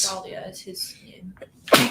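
A sneeze bursts out near the end, sharp and close, following a stretch of quiet conversation in a home setting while people talk beforehand.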